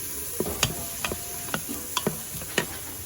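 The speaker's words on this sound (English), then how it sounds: "Let me give that a little stir." Diced yellow onion stirred in a pot, a spoon scraping and tapping the pot in several distinct knocks over a soft sizzling background, close and alone.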